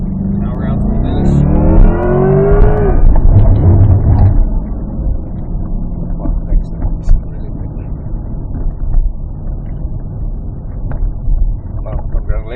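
A 2024 Corvette E-Ray on an autocross course at Pikes Peak International Raceway, engine climbing loudly in pitch as it powers out of a hairpin toward the finish, then easing off and fading, with people talking over it.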